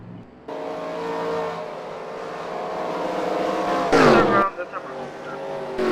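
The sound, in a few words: race car driving down the pit lane in a Cars video game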